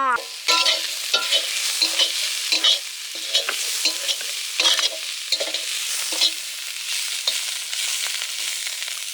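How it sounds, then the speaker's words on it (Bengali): Radish greens stir-fried outdoors at a riverside, heard as a close sizzle broken by repeated quick stirring scrapes and clatters in an irregular rhythm, with no voices. "শাকটা ভাজা হয়ে গেছে নামিয়ে দাও"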